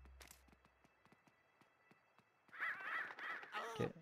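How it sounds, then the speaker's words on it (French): Crows cawing in Luigi's Mansion 3, several harsh caws clustered near the end, preceded by a faint series of evenly spaced soft taps like footsteps in a quiet room. "Ok, des corbeaux, super."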